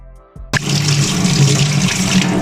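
Tap water suddenly gushes on after a moment of quiet in a kitchen, splashing steadily over peeled onions being washed by hand for a roasted onion mash.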